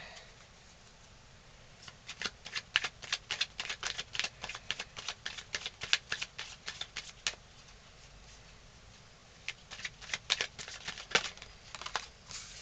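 Tarot cards being shuffled and dealt out one by one, a run of quick soft papery flicks and slaps in bursts, close and fairly quiet, with a short pause partway through.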